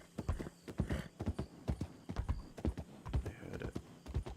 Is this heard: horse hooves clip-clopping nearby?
yes